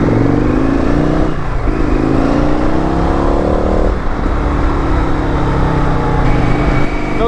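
An Indian FTR RSD Super Hooligan motorcycle accelerates hard over cobblestones, its engine note rising loud and continuous with two brief dips as gears change, close and dominant throughout.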